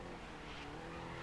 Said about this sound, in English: I do not mean to drift these corners as much as I do.